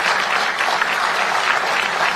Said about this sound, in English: That is an applause line break.